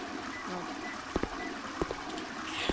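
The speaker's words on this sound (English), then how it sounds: "You can flush yourself in this game." A toilet flushes in the Who's Your Daddy video game, a steady rush of water running throughout with a few sharp clicks over it.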